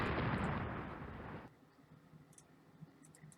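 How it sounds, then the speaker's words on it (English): A torpedo strikes a ship during a naval battle in the Rule the Waves strategy game, with a loud dense blast that rumbles for about a second and a half and then cuts off, leaving faint clicks and quiet background. "you've been hit by a torpedo out there"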